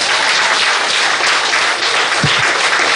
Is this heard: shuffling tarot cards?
no